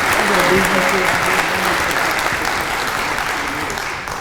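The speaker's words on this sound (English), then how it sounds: "So please, round of applause for her." Sustained audience applause fills a Maryland State Firemen's Association convention hall, a dense, steady wash of clapping that holds loud throughout and tapers slightly toward the end.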